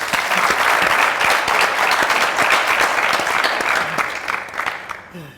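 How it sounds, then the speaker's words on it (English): A studio audience at a talk show gives a sustained round of loud, dense clapping that stays steady before fading out at the end. "I took that short break to have my audience clap for me"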